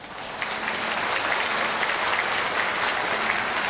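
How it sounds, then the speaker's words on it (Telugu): Audience at a boot camp talk clapping loudly and steadily, a sustained burst of many hands that swells in after a moment and keeps going. "అర్థమైతే గట్టిగా చప్పట్లు కొట్టొచ్చు"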